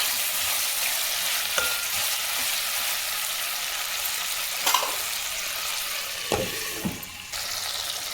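Steady frying sizzle from a pan of pithiki pappu curry cooking with tomato, onion and masala, a continuous hiss broken by a few sharp stirring scrapes near the end, with no voices.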